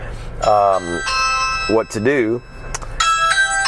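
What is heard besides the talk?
Ring doorbell chime playing on a phone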